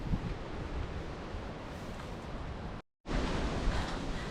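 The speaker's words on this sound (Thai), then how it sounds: "ให้ดูนะ ลมแรงขนาดไหน" Strong wind on a mountain forest trail at Pico das Pedras, Santana, Madeira, roars and buffets against the microphone in a dense, continuous rush, broken by one brief silent gap.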